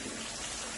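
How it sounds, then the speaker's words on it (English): Soapy hot water pours into a blender top in a brief, steady, close splashing gush of broadband noise with no talk. "Take the top off, and you can pour your soapy water into the top."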